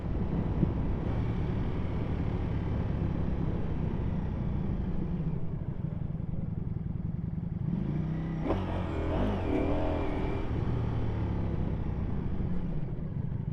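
A 2025 Ducati Panigale V4S motorcycle being ridden, its engine droning steadily under wind noise, with a shift in pitch and a brief mechanical clatter partway through; no talking.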